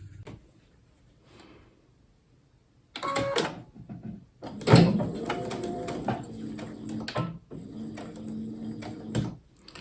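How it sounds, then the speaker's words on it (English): Sewing machine stitching down the sides of fabric bunting, running in a couple of mechanical bursts with a whirring motor and rhythmic clatter, close and fairly loud, separated by short pauses. "sew down the sides only using a 1/4 inch seam"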